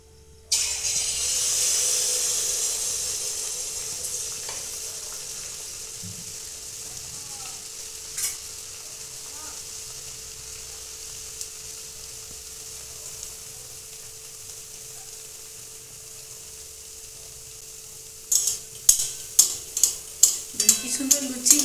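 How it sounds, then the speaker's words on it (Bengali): A ladle stirs semolina and jaggery pitha batter in a bowl over a steady frying sizzle of oil, ending in a quick run of sharp, rhythmic scrapes and taps close by. "যতবার দেবেন ততবার এরকম হাতায় করে ভালো করে এটাকে নেড়ে নিতে হবে"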